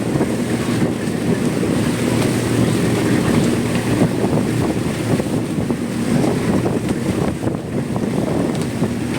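Strong wind buffets the microphone over open water, a continuous gusty roar with waves washing beneath it and no voices.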